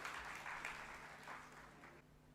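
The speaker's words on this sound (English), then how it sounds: "Please join me with a great round of applause." An audience at a GST seminar applauds to welcome the speaker, a soft, distant, steady wash of many hands clapping that holds for a couple of seconds before thinning out.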